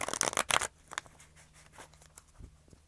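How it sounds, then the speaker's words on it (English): A tarot deck is shuffled in a quick burst of close papery riffling, followed by a few softer card taps and shifts. "Get one more shuffle, and then we will cut the deck."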